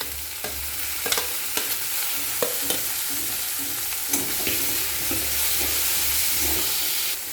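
Chopped garlic fries in hot oil with a constant bright sizzle, broken by repeated sharp scrapes and taps of a spoon stirring the pan, close and clear with no voices.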